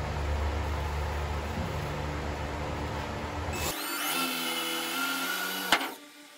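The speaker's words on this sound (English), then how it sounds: "Okay, I'm gonna go ahead and get this drill." A power drill bores alignment pin holes into the trunk of a 1977 Chevy Camaro under restoration. There is steady broadband whirring for several seconds, then a higher-pitched drilling tone, then a sharp click as the drill stops.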